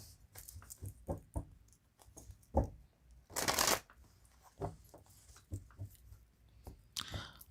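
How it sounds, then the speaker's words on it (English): A deck of tarot cards is shuffled close up, with quiet papery riffles, taps and slaps in an irregular rhythm and a couple of longer brushing bursts. "I shuffle all these before the reading, but I do it on camera"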